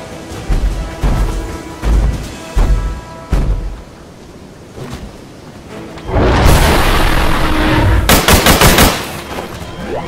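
Gunfire from weapons in the dinosaur shooter game Orion: Dino Horde: heavy, loud shots in spaced bursts, then a dense roaring stretch of rapid automatic fire with booming impacts.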